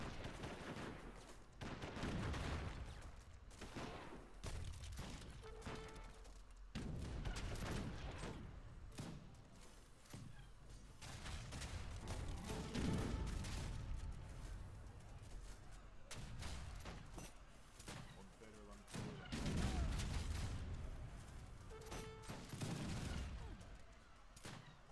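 Heavy artillery and gunfire in an Age of Empires 3 battle, with repeated booming cannon blasts and crackling volleys in dense, overlapping bursts throughout.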